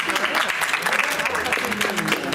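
An audience claps continuously at moderate level, a dense patter of applause running under a voice that talks over it.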